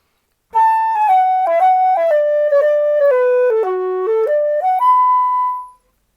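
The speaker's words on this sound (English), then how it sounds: "I would play a long, short rhythm" A run of sustained piano notes played alone in an uneven long-short dotted rhythm, stepping down in pitch and then back up before a final held note.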